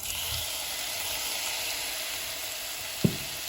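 Prawns fry in a pan of masala with sautéed tomato for a Goan prawn and lady finger curry, making a continuous close sizzle with one brief clink near the end.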